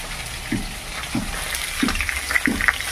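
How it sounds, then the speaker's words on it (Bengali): A mustard and green-chili fish curry with turmeric and chili powder sizzles in a pan over fried fish, a steady frying hiss broken by a few soft stirring knocks. "ভাজা মাছটার মধ্যে ঢেলে দেবো"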